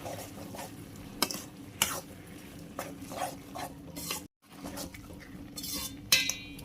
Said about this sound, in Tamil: நம்ம வதக்கின மசாலா கீரை எல்லாம் நல்லா மிக்ஸ் ஆகிற மாதிரி ஒரு அஞ்சு நிமிஷம் கிளறி விடலாம்